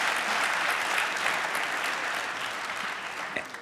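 Members of a German parliamentary group applaud, a steady wash of many hands clapping that fills the room, holds even, and fades slightly toward the end, with no voices over it.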